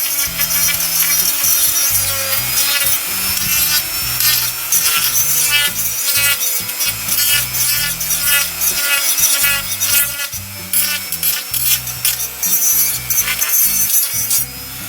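A plastic AMT 1:25 scale 1967 Camaro model car kit part is trimmed with a hand tool, giving steady close rasping, scraping strokes in an uneven rhythm, with no talking.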